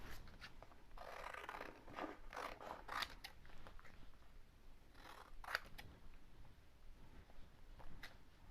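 Scissors snip through paper stencils for homemade holiday wrapping paper, a quiet run of short, close cutting strokes in uneven bursts with no talking.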